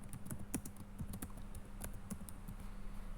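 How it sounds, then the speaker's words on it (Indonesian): Steady keystrokes on a computer keyboard while entering an accounting equity entry in Microsoft Excel, a run of light clicks with uneven rhythm over a low constant hum. "kita ketik modal Karina"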